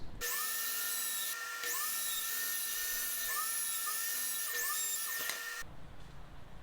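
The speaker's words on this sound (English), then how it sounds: "now I'm just going to mill it all down to the sizes I need" Power tool milling reclaimed pallet wood boards to size for cabinet doors, a loud continuous high whine that rises and dips with each pass, stopping near the end.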